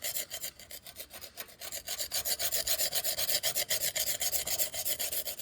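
A straight scraper rasping scale off the bottom-end engine parts of a Bus 440 during teardown, producing a close, continuous run of quick rhythmic scratchy strokes that grow slightly louder and more regular.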